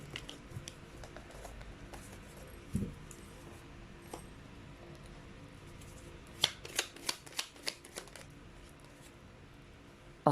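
A deck of tarot-style cards is shuffled and handled up close, with soft riffling and sliding followed by a run of distinct taps and flicks toward the end; no voices.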